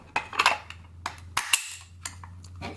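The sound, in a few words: SIG 553 rifle trigger being dry fired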